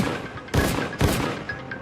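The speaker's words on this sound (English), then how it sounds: "and then heard a bunch of gunshots" Gunfire during a fatal ambush in which a man draws his own gun, two sharp loud bursts about half a second apart followed by fainter trailing reports.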